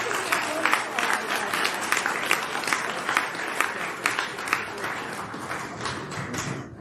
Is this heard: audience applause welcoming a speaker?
yes